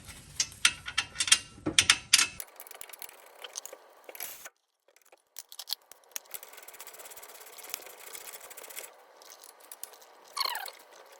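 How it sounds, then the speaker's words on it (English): Brake caliper bracket bolts threaded in by hand on a Chevrolet Aveo front brake, giving light metallic clicks, ticks and scraping rattles, busier at the start and then sparse and close, with no speech. "Thread one in, get it started, and then find the other one."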